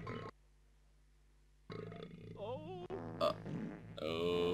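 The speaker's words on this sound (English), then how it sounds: "Burping now. He's always burping." A cartoon character in the video game Conker's Bad Fur Day lets out a burp, followed by a mix of other game sounds and effects at close, steady volume.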